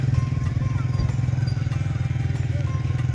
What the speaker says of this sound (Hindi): यहाँ पे घोड़ों के ऊपर बैठ के लोग जा रहे हैं ऊपर।